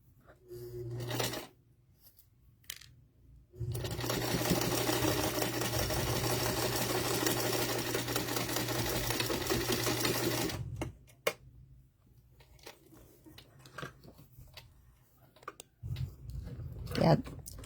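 A sewing machine runs steadily for about seven seconds while stitching a quilt block, a loud continuous buzzing motor hum with rapid needle clatter, framed by brief quieter handling noises and a person talking before and after.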